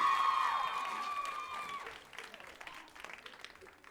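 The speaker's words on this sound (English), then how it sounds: "Let's give them another round of applause." Applause and some cheering from a festival audience for the Epsom Girls Grammar Stage Band, following the band's sustained final chord and tapering off. The clapping is fairly faint and distant, and voices come through underneath.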